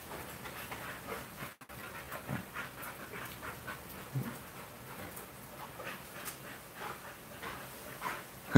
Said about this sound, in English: Tick, Tick, don't do that, dog.